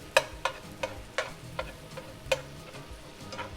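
Venison browning in a pan with spiral pasta, a steady sizzle under sharp, irregular scrapes and clicks of a utensil breaking up and stirring the meat, close by, with no speech.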